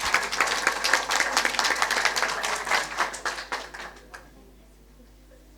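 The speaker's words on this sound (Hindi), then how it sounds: "जोरदार तालियां" An audience at a Sanskrit quiz during a poetry festival breaks into loud, dense applause that holds for several seconds and then tapers off into near silence.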